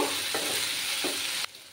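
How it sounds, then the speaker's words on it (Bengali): Small tangra fish fry in hot oil in a pan, giving a steady close sizzle with a couple of soft stirring scrapes before the crackle drops sharply near the end. "মাছগুলো একটু ভাজা হতে থাক। সামান্য ফ্রাই করব মাছটাকে আমি।"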